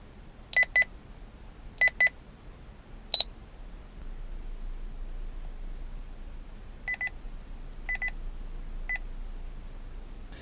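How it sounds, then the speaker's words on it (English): Short electronic beep pairs and a single sharper tone from an Escort S75G radar detector starting up, then a pause and another series of quick double and single beeps, clean and close. "the startup sounds are a little bit less annoying now when you start at the S75G"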